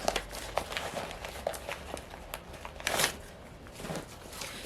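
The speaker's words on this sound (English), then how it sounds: "I'm gonna pull some word cards on my word bag." Word cards from a tarot reader's word bag being pulled and shuffled, giving a run of soft papery rustles and flicks with a brighter scrape near the middle, close and moderately quiet.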